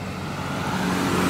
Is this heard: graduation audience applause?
no